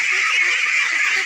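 Ducks on a farm pond beside a rural integrated duck farm quack and honk in a continuous noisy chorus, fairly loud and close, with no speech over it.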